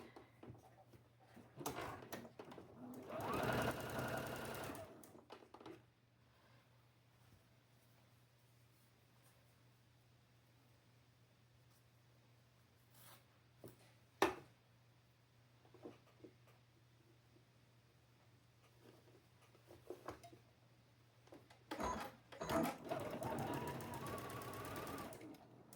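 Short bursts of a sewing machine stitching small fabric appliqué eye pieces for pig quilt blocks, two loud runs at the start and end with a quiet stretch of light handling and clicks between, no talking.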